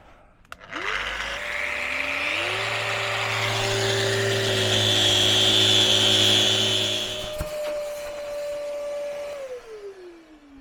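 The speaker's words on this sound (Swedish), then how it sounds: "Men lite slipa på det där" A power sander works on a boat rudder, running as a steady, loud mechanical whine with a constant tone, spinning up at the start and winding down near the end, with no talk over it.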